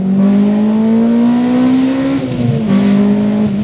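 A Honda Integra/RSX Type S VTEC engine revving hard and close, a loud sustained high-pitched howl that climbs steadily, dips briefly, then holds again.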